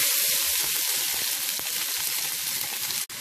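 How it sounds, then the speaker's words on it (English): Onions drop into a large pan of hot oil with cumin seeds and fry in a loud, continuous hissing sizzle. A brief clatter of a stir comes near the end. "Now we will add onions."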